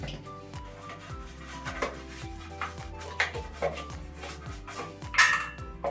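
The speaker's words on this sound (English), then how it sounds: "So you can brush the drainage." A brush scrubs a hotel shower floor drain in quick repeated rasping strokes, close and fairly loud, with faint clinks and no voices.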